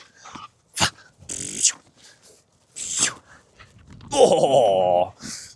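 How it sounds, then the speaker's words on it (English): Dog growling and tugging on a toy during play, with short gruff bursts broken by pauses, close and fairly loud, with little talk. "love a little game of tug to really entice the dog in coming back to you"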